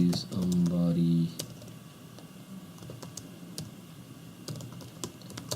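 Quick clicking keystrokes on a computer keyboard while a command is entered during a server software installation, close and fairly crisp, with a low hum or voice-like tone at the start and scattered key taps after.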